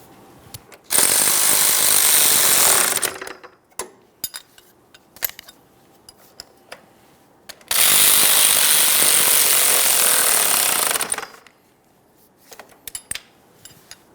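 Two loud bursts of a power tool, about three seconds each, snug exhaust mounting hardware on a 2013-2020 Ford Fusion 2.0L, with scattered clicks and clanks of handled tools in the quiet gaps.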